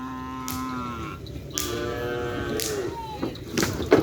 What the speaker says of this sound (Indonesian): Ini sapi yang baru guys.